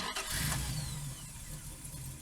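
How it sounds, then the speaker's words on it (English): A retro 1980s-style car engine sound effect, a steady mid-pitched engine drone that starts and holds with a slight rev, loud and close, alone with no talk. "We need a car engine."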